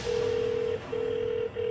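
A landline telephone emits steady repeating tones, two long beeps separated by short gaps, loud and close with no talk, as a number is called again.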